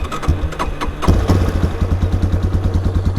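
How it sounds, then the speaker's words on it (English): A Yamaha Warrior motorcycle engine cranks with clattery bursts, then catches about a second in and settles into a loud, steady, rhythmic idle thump close by. "So let's get her fired up here."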